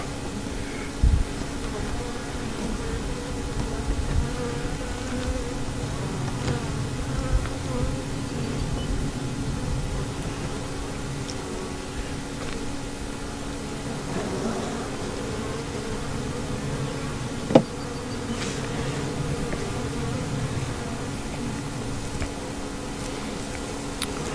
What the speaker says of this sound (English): Older bees, they fly away when I blow on them.